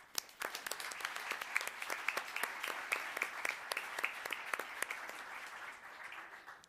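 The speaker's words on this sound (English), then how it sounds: "Round of applause." A small crowd applauding at a Los Gatos town council meeting, a round of clapping that builds quickly, holds steady for several seconds, then tapers off, with no talking over it.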